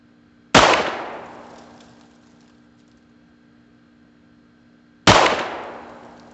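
Two gunshots from a Beretta U22 Neos .22 pistol at a range, each a loud sharp crack with a long decaying echo, spaced about four and a half seconds apart with quiet between.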